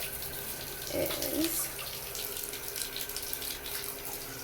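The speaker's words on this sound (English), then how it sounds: "rinse off the brush, of course" Running water from a tap splashes steadily as a cleaning brush used on a box fan is rinsed under it, a continuous hiss with a brief louder burst near the start and a faint voice.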